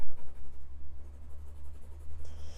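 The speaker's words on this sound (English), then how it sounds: "I'm gonna use a little thicker pencil because it's easier for me to add a color." A thick graphite pencil colors on paper in quick scratchy strokes, a steady rhythm of short rasping bursts close up, with no talking.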